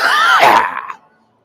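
A single harsh, forceful cough from a man, loud and close, with a rough drawn-out tail that fades within about a second.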